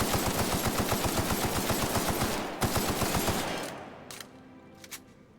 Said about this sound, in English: You don't mind if I open fire in this house, do you